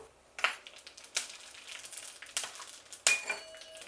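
Cumin seeds dropped with pepper into hot oil in a pan for jaru pongal, a few sharp clinks and crackling bursts followed by soft scattered sizzling, near and fairly quiet.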